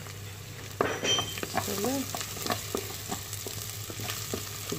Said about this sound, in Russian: Сгорит наша зажарочка